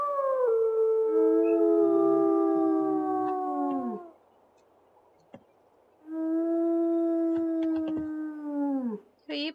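Long wolf howls in the video game WolfQuest, two sustained, clear calls with a break between them and harmonics sliding down at each end, close and loud with no talk over them.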